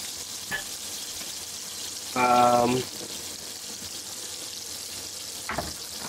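Meat pan-fried in butter with rosemary sizzles in a steady background hiss, with a few short spatters and one brief, louder burst of crackling partway through.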